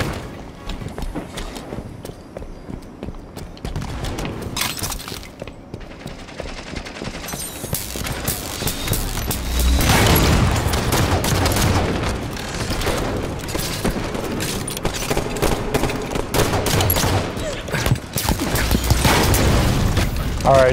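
Halo 5 free-for-all gunfire with booming shots and bursts from a railgun and other weapons, loud and continuous in the mix, with swells of heavier impacts around the middle and end.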